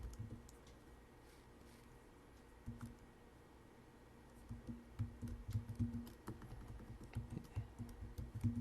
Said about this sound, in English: as I started typing this information in